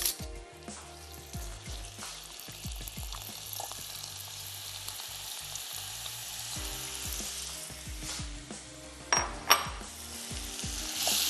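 Tom yum soup ingredients fry in oil seasoned with salt and black pepper, a steady close sizzle throughout with a few brief clinks of utensils near the end and a soft tonal layer underneath.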